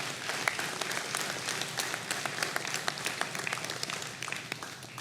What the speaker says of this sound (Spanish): ¿Cuántos le pueden dar un aplauso a Cristo?